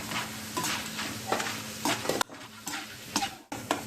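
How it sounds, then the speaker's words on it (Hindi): Potato chips frying in hot oil with a steady crackling sizzle, broken by repeated scraping and tapping strokes of a utensil in the pan, close and fairly loud, with no talk. "आपको ये चिप्स फ्राई करने में बिल्कुल भी टाइम नहीं लगेगा, तेल गरम रहता है।"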